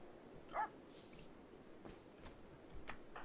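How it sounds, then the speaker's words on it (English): A dog in the RimWorld video game gives a couple of short, faint yelps and a whimper against a quiet, low background hum. "Oh, we gotta save the dog!"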